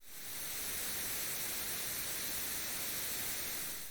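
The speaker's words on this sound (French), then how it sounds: "c'est grosso modo un ensemble de fréquences audibles données de manière aléatoire, mais à un même volume" White noise, an even, steady hiss across the whole range at constant volume, like static, heard alone without any speech.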